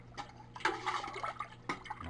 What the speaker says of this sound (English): Stir this stuff up.